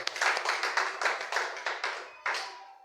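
A congregation at a church service clapping together in a steady rhythmic beat, many hands striking in unison over a few seconds, loud and close.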